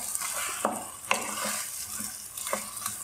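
Tomatoes seasoned with salt and red chili powder being stirred and cooked in a pan for a butter chicken base, a steady close sizzle with a few soft scraping stir strokes.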